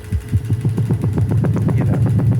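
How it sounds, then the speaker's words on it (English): A Revox reel-to-reel tape machine plays back a fresh recording with its pitch wheel shifting the speed, producing a loud, low, warbling pulsed tone that sounds like an engine throbbing steadily and slightly rising over a couple of seconds. "I can just gradually move the pitch around, and if I just play what we just recorded"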